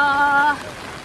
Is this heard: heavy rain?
yes